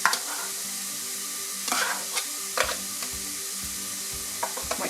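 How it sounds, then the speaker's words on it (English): Butter sizzling and frying in a pan as the base for a lasagne white sauce, a steady close hiss broken by occasional spatters and stirring scrapes, no voices. "So I'm going to pop my butter"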